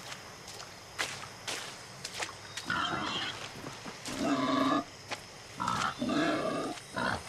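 A pig in Far Cry 6 grunts and snorts in several bursts, mid-distance, amid soft footsteps and scattered clicks, with no talking.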